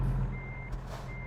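A truck in American Truck Simulator backs up with a steady high reversing beep over a low engine rumble, close and clear, the tone breaking briefly midway.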